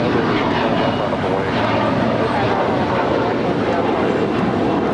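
A Boeing 777-300ER airliner at LAX produces a loud, continuous broadband jet engine roar that stays steady throughout, with a possible voice faintly mixed in beneath it.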